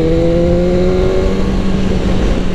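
A 2001 Suzuki GSX-R 600 sports bike engine runs steadily while riding, a loud continuous drone with a few sustained tones and wind rumble and no talking.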